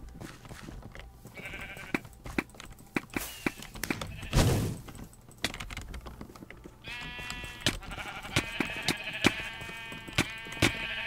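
Repeated bleating of sheep in an arcade video game, several sharp calls spread through the clip, loud and close, mixed with thumps, a whooshing burst and bright electronic chimes.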